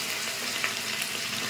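Chilli chicken gravy sizzles hard in a pan as water is poured in, a loud, dense hiss throughout with no voices.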